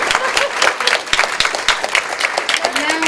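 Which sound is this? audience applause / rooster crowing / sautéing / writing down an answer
audience applause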